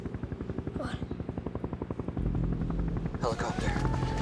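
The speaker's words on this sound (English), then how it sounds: "Helicopter." A helicopter over the Sea of Cortez thumps with a fast, steady rotor chop that swells louder and closer, while people talk underneath.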